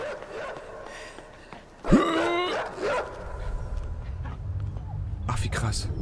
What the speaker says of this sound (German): Blöder Köter. Geh weg.